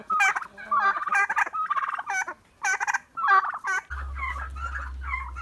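Tame young turkeys gobble in a barnyard, giving several close, loud bursts of rapid warbling calls, then a steady low hum underneath the final calls.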